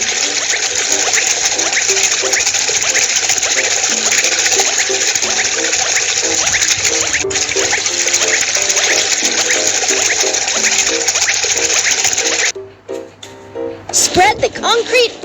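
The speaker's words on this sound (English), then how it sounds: "Pour the concrete onto the floor slab." Concrete is poured onto a floor slab in a cartoon city-building game, a loud, continuous gushing and splashing stream that stops abruptly near the end, followed by short bursts of game sounds.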